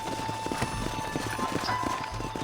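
Rhythmic clip-clop of horse hooves trotting in the video game Red Dead Redemption, over a steady background hum, several footfalls in quick succession.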